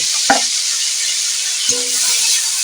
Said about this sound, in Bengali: এবার এই সজনে ফুলটা এই তেলের ওপরে দিয়ে দেবো অল্প করে একটু কষে নেব